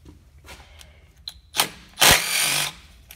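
A power tool, likely a drill or impact driver, spins out the transmission pan bolts on a Ford 6R80 automatic transmission, firing in short whirring bursts with a loud final run near the end.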